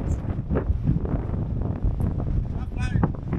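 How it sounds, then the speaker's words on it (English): Strong wind at Cape Point roars steadily and loudly against the microphone with rumbling gusts, while people talk briefly over it. "The wind is too much."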